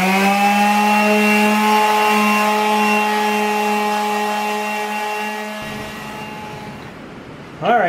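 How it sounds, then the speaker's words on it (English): A palm sander runs against the underside of a 6 x 10 cargo trailer, giving a steady, loud motor whine with a sustained tonal hum that slowly fades, then cuts off near the end. "I'm just going to use this palm sander and go over this real good."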